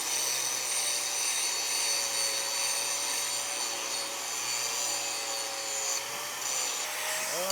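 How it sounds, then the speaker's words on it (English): An angle grinder under light pressure strips mill scale from steel weld test straps, a steady close whine with a bright high-pitched hiss that holds evenly throughout and shifts pitch briefly near the end. "I'm using a light pressure here on the mill scale. I'm not really dogging that grinder."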